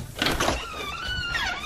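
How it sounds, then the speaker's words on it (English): A car door on an SN-95 Ford Mustang swings open with a drawn-out, rising and falling metallic squeak over a soft thunk, close and fairly loud, with no talking. "The good old squeaky door."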